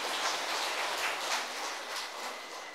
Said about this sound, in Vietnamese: rồi bây giờ cho thằng pháo tay được rồi đó